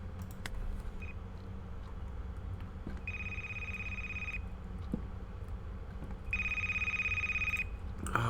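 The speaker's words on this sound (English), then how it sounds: "I'll answer the phone." A telephone rings inside the horror game A Place Forbidden: two steady electronic ring bursts, each about a second and a half long, separated by a pause. They sound clear and close over a dim, low ambient hum, with no talking.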